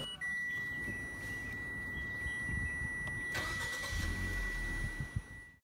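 A Mitsubishi Xpander Cross Premium Package 2022 engine cranks and catches, then settles into a smooth low idle, with a steady electronic chime ringing over it before the start; quiet and close, no talking.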